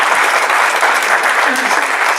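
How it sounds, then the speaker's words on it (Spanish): A church congregation applauding, a dense burst of loud clapping from many hands, steady and close for a couple of seconds. "el aplauso."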